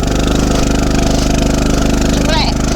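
Small single-cylinder engine of a Coleman CT200U mini bike running at a steady, even idle-like drone, loud and close throughout, with a brief chirp near the end.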